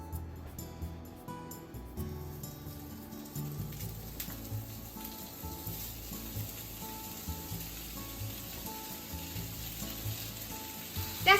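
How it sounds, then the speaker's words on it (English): Tofu sizzles and crackles steadily in oil in a hot frying pan, with occasional stirring scrapes and soft bubbling throughout, no talking. "Let's put the tofu into the frying pan."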